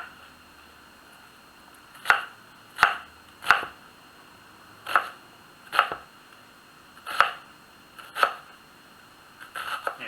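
A sharp knife chops ingredients for macaroni salad on a cutting board, giving about eight crisp, separate strikes at an uneven, unhurried pace, close and clear against a quiet room.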